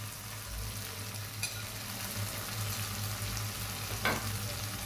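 Peas frying in spiced oil with tomato sauce in a pan, a steady close sizzle that runs the whole time, with a couple of brief utensil scrapes as the mixture is stirred.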